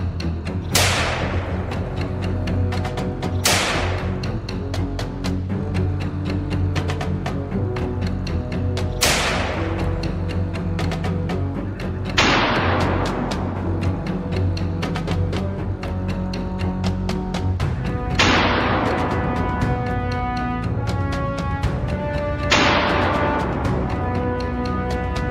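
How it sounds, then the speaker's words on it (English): Six loud, sharp gunshots ring out at irregular intervals on a farm overrun by wild boars, each leaving a long echoing decay, over a steady background drone. "After the gunshots were fired, the wild boars scattered around us"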